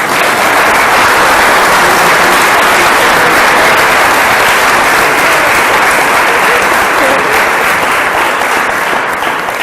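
An audience bursts into loud, sustained applause, dense clapping holding steady for several seconds with no voices over it.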